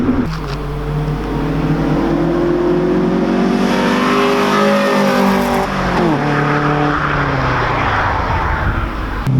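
A Honda B16 engine in a CRX Del Sol revs hard and climbs into VTEC, its pitch rising in loud, close sweeps before dropping and climbing again.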